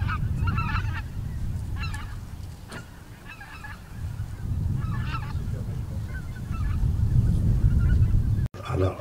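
A winter flock of pink-footed geese at Uitkerk honks in repeated bursts of overlapping calls over a steady low rumble of wind or distant noise, fairly close and loud throughout.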